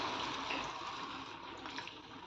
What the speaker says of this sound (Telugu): ఒక గ్లాస్ వాటర్ వేసుకుంటున్నాను.